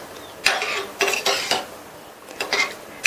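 A spoon works through a pot of tamarind lentil gravy with added cooked dal and tomato, making a few bright metallic clinks and scrapes in short, uneven strokes, close and fairly loud, with no talking.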